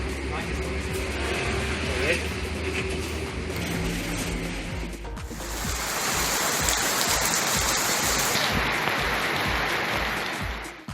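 Hailstorm pelting a house and its balcony: a steady patter swells into a dense, loud clatter of ice pellets striking surfaces, continuous and close.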